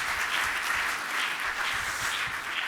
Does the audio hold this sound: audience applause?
yes